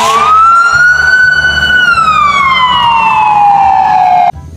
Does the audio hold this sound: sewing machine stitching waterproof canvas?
no